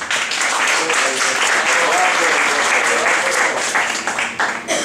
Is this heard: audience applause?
yes